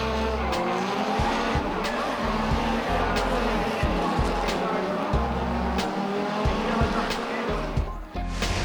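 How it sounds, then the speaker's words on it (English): Two Nissan drift cars on the Baypark track, Tauranga: an RB25-powered C33 Laurel chasing an SR20-powered S13, engines roaring continuously with rapid gear-change cuts and tyre squeal, loud and close throughout, with a commentator talking over it. "Calvin Clark answered back with a committed chase in the RB25"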